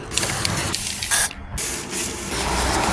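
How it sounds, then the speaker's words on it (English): Lube sprays onto go-kart bearings in a loud, close hiss from an aerosol can, several short bursts of spray with brief gaps between them and no talking. "I'm just going to put some lube on the bearings too to protect them"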